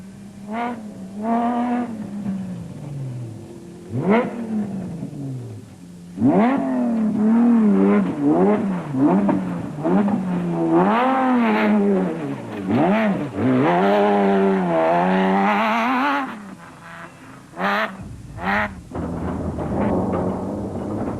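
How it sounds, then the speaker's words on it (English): The Nissan V6-powered Atlas Copco Bat special vehicle races in the 2004 Sun City 400 off-road event, its engine loud and close, revving repeatedly and rising and falling in pitch through gear changes under hard acceleration. "vehicle lead to Kirstein and Juster in the Nissan V6-powered Atlas Copco Bat"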